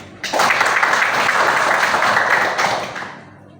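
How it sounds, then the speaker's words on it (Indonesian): Applause and hand clapping from a classroom of students, a dense steady burst that starts abruptly, holds for about three seconds, then fades out. "Tepuk tangan untuk kita semua."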